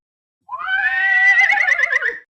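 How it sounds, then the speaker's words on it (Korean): A single loud horse whinny, close and clear, rising then trembling into a rapid quavering fall over about two seconds, set against near silence. "밖에서 요란한 말 울음소리가 들렸습니다."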